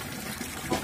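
Tap water runs steadily over vegetable stalks being washed, a close, continuous gushing and splashing with slight surges near the end.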